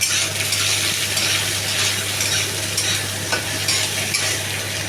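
Onion frying in a pan, a dense, close sizzle with light stirring and occasional clinks of a utensil, steady throughout.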